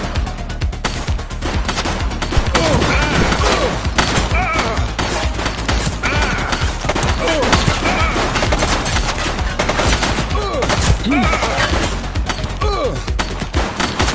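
Dense volleys of gunfire fired at a suspect during a police takedown, loud and continuous with rapid bursts and overlapping shots, under occasional shouting voices.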